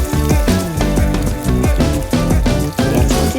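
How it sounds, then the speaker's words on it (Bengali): Chopped onion and whole garam masala spices crackle and sizzle in hot oil in a home kitchen, a steady loud frying hiss with bursts of popping throughout. "তেলটা গরম হয়ে গেছে আমার। এতে আমি গোটা গরম মশলা দিয়ে দিলাম। দিয়ে দেব পেঁয়াজ কুচি"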